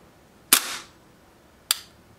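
Two sharp, snappy shots from a Tokyo Marui P226 airsoft pistol fitted with a lightweight blowback unit and plastic slide, each a crisp crack with a short mechanical clack, about a second apart, close and alone.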